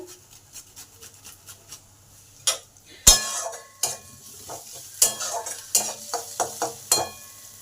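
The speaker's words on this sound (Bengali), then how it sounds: "পেঁয়াজটা ভালোভাবে ভাজা হয়ে গেছে এবারে কিছুটা আদা গ্রেট করে দিলাম" Onion and grated ginger sizzle in a pan while a utensil stirs and clinks against the metal in uneven strokes. No one speaks.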